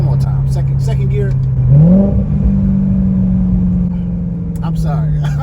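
Corvette C6 with Kooks headers, X pipe, Halltech Killer Bee intake, CORSA Extreme exhaust and a tune pulls hard in second gear, a loud, close, steady low exhaust drone that jumps up in pitch and then holds a deep, even rumble.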